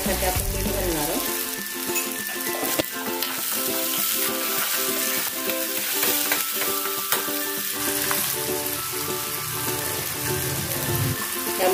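Onions sizzle and fry steadily in a pan while being stirred, a loud continuous crackle with occasional scraping, heard up close with no talking.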